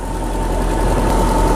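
A Lexus LS400 engine idles steadily at close range with the hood open, a constant low rumble with a sustained hum and no voices.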